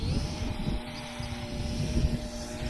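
A cheap little RC plane buzzes at about 80% throttle as it is hand-launched, a steady droning propeller whine with a faint rumble beneath.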